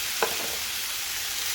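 Grated coconut being stirred into ivy gourd thoran in a pan, a soft steady sizzle with a single quick scrape of the spoon near the start.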